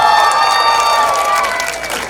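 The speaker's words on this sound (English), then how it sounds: "help give a big cheer to our senior class of 2025" A homecoming field crowd roars and cheers for the senior class of 2025, a loud sustained wash of voices and shouts with a whistle-like tone on top, gradually fading toward the end.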